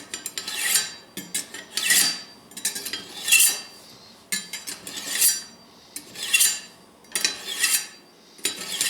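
A steel knife blade drawn repeatedly through a manual knife sharpener, each stroke a bright metallic rasp lasting under a second, about eight close, steady strokes in an even rhythm with no talking.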